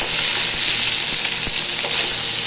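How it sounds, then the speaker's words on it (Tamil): Ridge gourd skin and urad dal roasting in a pan: a loud, continuous close sizzle of hot oil with light crackles and faint stirring scrapes, and no voices. "தோல் நல்லா பச்சை வாசம் போக வறுபடணும். உளுத்தம்பருப்பும் நல்லா வறுபடணும்."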